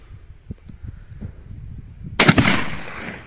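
A single sharp, loud blast from a 12 bore Sujata single shot choke barrel shotgun fired at a target about 25 metres away outdoors, following quiet low thumps and rustling, then trailing off in echo.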